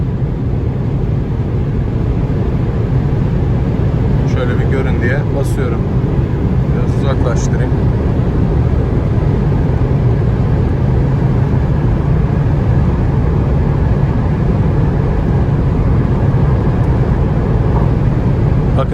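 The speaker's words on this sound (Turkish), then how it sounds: "Rüzgar sesi de çok az. Yol sesi de çok az." Steady, low rumble of road and wind noise inside a moving Opel Astra K 1.6 CDTI, fairly even throughout, with a few brief faint clicks partway through.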